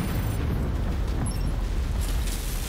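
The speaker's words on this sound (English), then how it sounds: "And the artillery is live." Artillery strikes land in the Mechwarrior 5 video game, a sustained heavy rumbling roar of explosions with deep booming low end, loud and continuous, no speech over it.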